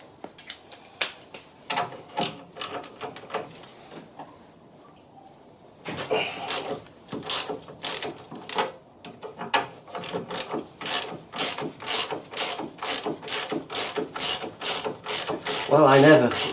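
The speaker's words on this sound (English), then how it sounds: "I'm going to see if I can crack it first of all with a socket" A socket wrench ratchets on the front shock absorber nut of a Fiat 500. A few scattered clicks are followed by a short pause, then a long run of rapid, regular metallic ratchet strokes, close and loud, growing stronger toward the end.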